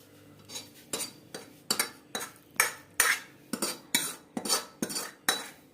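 A spoon works chhena (fresh curd cheese) around a pan with about a dozen steady, rhythmic scraping strokes. The metal clinks and scrapes are close and crisp, with no voices.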